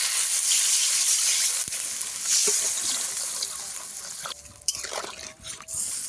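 Water hits a pan of sizzling vegetables and cumin, part of a rohu fish and pointed gourd curry, making a loud, continuous hiss that slowly fades with a few clinks near the end.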